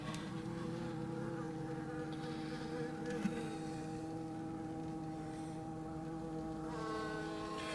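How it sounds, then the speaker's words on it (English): Dense honey bee swarm buzzing steadily around a hive packed with bees during a beekeeping inspection, a close, continuous drone with layered harmonic hum and no talking. "this hive is just packed with bees"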